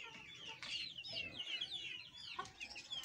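Chickens cluck and chatter close by in a small rooftop coop kept alongside partridges and ducks, a busy run of overlapping clucks filling the short stretch.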